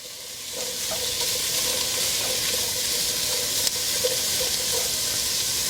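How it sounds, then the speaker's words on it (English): A whole onion sautéing in a pot for soup gives a steady, moderate sizzle with faint stirring clatter, a couple of sharp clicks breaking through midway. "We're going to throw in one whole onion. We're going to go ahead and get that sautéed up."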